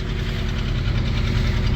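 Diesel engines of fishing trawlers coming in from the sea on the morning tide knock and throb steadily as they enter a Sundarbans canal, a continuous near mechanical rumble with no voices.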